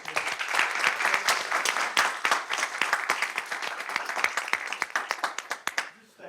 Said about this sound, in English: Let's give these people a round of applause.